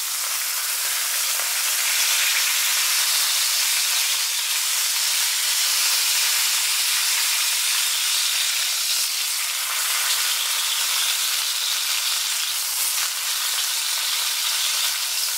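Beef sizzles hard in a hot frying pan for a Thai-style beef salad, a loud, close, continuous hissing fry with no talk over it.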